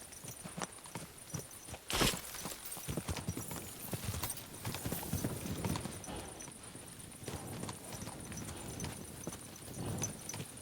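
Horse hooves from the video game Kingdom Come: Deliverance 2, clip-clopping at a walking pace in a steady rhythm, with a sharp thud early on and faint background ambience.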